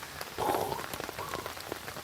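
Steady rain falls on a wet campsite during a bushcraft outing, a dense close patter of drops that swells briefly partway through and continues evenly, with no talking.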